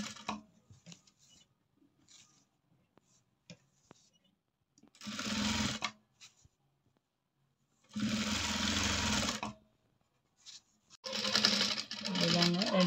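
A sewing machine stitches a 36-inch churidar top in three loud close bursts of rapid whirring, separated by quiet gaps with small handling clicks and brief talk.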